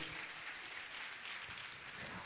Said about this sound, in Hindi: मैं चाहूंगा आप सभी उनके सम्मान में जोरदार ताली बजाकर सम्मान करें।